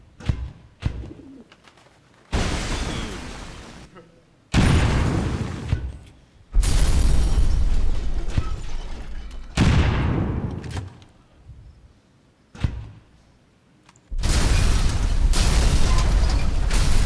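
Grenade blasts in the XCOM 2 video game go off as a series of loud, roaring explosions. Each one rises abruptly and decays slowly, separated by short quieter gaps with faint clicks, and no talk is heard.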